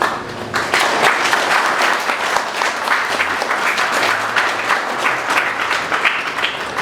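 Sustained applause fills a church during a wedding ceremony, a dense, steady crowd of clapping hands that continues without pause at an even, loud level.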